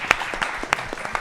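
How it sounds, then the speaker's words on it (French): A small group clapping in a run of separate, crisp hand claps, fairly close and unevenly spaced, with no voices over it. "On peut les applaudir."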